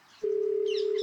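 In a horror video game, a phone call is placed to Galley House, heard as a sharp electronic click followed by a steady, loud single-pitch dial tone that holds unbroken, with faint chirping tones flickering above it.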